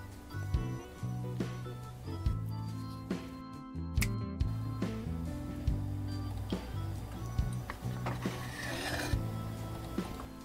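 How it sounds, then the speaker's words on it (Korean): Sandpaper rubbed over the lacquered surface of a wooden cup, a rhythmic scratchy rasping with small knocks, close up. "잘 붙을 수 있도록 표면에 사포질을 좀 해주겠습니다."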